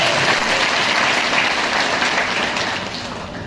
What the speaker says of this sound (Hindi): सबसे आग्रह करता हूं कि सबसे पहले राजकुमार भैया के लिए और अपने आप के लिए जोरदार तालियां बजाएं।